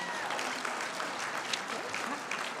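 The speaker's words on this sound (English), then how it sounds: "So please give yourselves a round of applause." Audience applause at the Wing Luke Museum 2022 auction, a dense continuous round of clapping from a crowd, moderately loud and sustained throughout.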